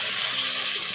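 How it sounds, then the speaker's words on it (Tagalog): Water hisses and sizzles steadily as it is poured into a pan of sautéing pancit bihon with black fungus, a close, continuous gushing wash with no talk over it. "Sabuhan na natong tubig guys."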